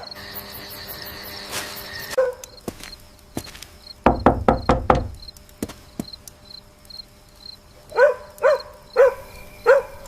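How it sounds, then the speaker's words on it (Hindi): Knuckles rap on a door in a Hindi-dubbed horror film, a quick burst of loud close knocks, with scattered taps and repeated chirping insects around it. "कोई दरवाजा बजाती हूं।"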